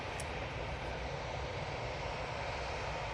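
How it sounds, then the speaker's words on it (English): A Lufthansa airliner passes near Manchester Airport, its engines a faint, distant steady rumble and hiss that holds evenly without voices. "Lufthansa is just passing up by Macclesfield"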